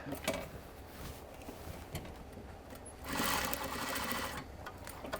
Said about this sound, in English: we're going to add this belt loop back on. So we're going to lay it right over the seam we just made. And we're just going to straight stitch at the very top.